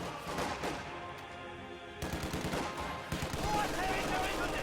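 MG42 machine gun fire in a World War II strategy game, rapid sustained bursts layered with other distant gunfire and battle noise, with a commentator talking over it.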